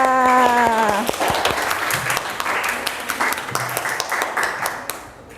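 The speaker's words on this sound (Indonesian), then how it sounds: "tepuk tangan dulu untuk Mbak Amelia." A classroom group applauds, clapping loudly at first and then thinning out and fading, with a brief bit of music at the start.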